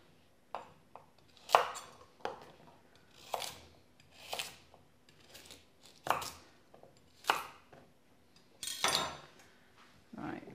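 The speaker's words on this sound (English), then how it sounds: "just roughly chop them" Rough chopping of celery and carrots on a cutting board, a dozen or so sharp knife strikes spaced irregularly, close and fairly quiet with brief pauses between cuts.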